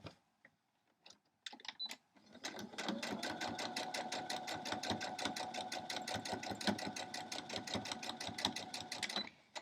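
A sewing machine stitches quilt fabric in a fast, even run of needle strokes that starts after a few hesitant clicks and then holds a steady, close mechanical whir.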